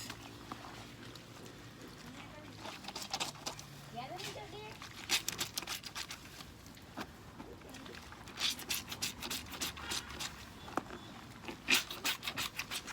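Soapy clothes are scrubbed by hand with a brush outdoors in Jamaica, making irregular rubbing and rasping strokes that grow busier and louder toward the end, with voices in the background.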